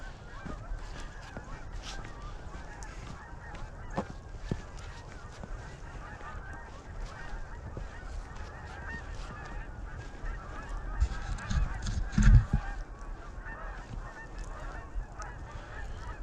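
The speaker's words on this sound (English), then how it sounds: "Geese are coming as we're leaving." Geese honk repeatedly in a snowstorm at Osprey Point, calls carried over steady wind noise, growing louder and closer toward the end as the flock arrives.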